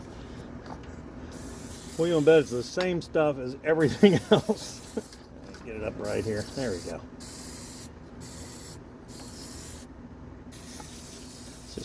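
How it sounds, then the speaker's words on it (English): Hissing bursts of an aerosol can spraying lubricant on an old GM truck, close by, interrupted by someone speaking briefly in between. "I have to spray this all down."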